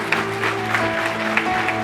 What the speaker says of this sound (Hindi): बजाओ तालियां, करो प्रभु की महिमा।